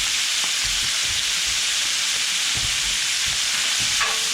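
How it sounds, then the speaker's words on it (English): Meat browns in hot leftover bacon grease, a loud, steady sizzle and hiss with occasional soft thumps and stirring scrapes in the pan. "I'm just heating up some bacon grease that I had left over from breakfast. And I'm going to brown all my meat in there"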